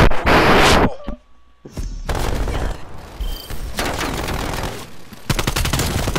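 Sustained rapid turret gunfire in a shooter game, loud and continuous automatic bursts with a brief gap near the start, then dense rattling fire running almost to the end.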